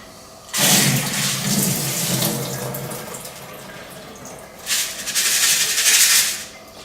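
Water from soaked beans drains through a strainer, pouring and splashing loudly in two bursts, the first longer and the second after a brief lull, close by and with no talking.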